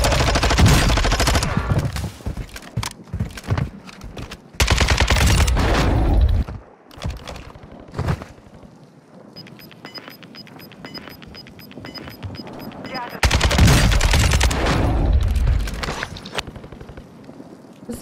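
Bursts of automatic gunfire from a shooter video game, loud rapid volleys separated by quieter stretches of scattered single shots and effects, dense and close.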